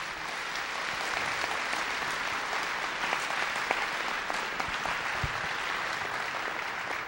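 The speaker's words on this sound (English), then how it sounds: "Give both of them a round of applause, would you?" An audience in a church hall claps for both participants after a creation-versus-evolution debate, a steady, moderately loud round of applause that sustains evenly throughout.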